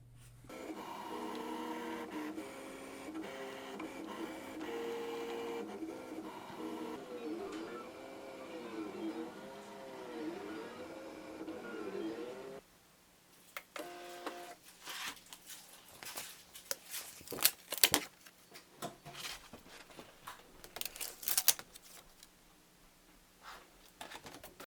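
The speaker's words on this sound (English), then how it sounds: "I'm going to go over to the machine and load that mat into the machine. And then hit start." Loklik iCraft cutting machine running a cutting job on a loaded mat, with a steady motor whir and repeating sweeping tones for about twelve seconds, then quieter irregular clicks and taps from the machine.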